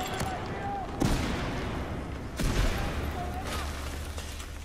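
Battlefield 4 multiplayer combat on Siege of Shanghai: two heavy blasts, a grenade explosion among them, boom out over a bed of scattered distant gunfire, with loud booming thumps rising above the steady rattle.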